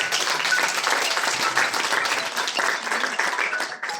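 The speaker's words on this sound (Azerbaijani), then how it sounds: "Bir alqışlar gəlsin Sevda xanım üçün." An audience at an event breaks into loud, sustained applause, many hands clapping densely and evenly for the full few seconds, without speech.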